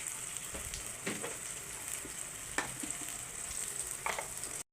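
Tomato masala with ginger garlic paste sautés in a pan, a soft steady sizzle broken by occasional sharp taps and scrapes of the spoon, close and fairly quiet.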